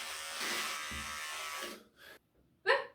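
Electric shaver running close by in a steady, bright buzz that cuts out after about two seconds, followed by a short blip and a brief sharp sound.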